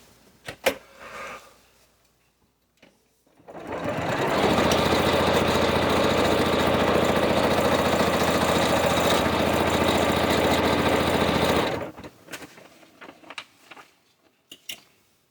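A sewing machine stitching in one steady, even run of about eight seconds, close and loud, with a few quiet handling clicks before and after.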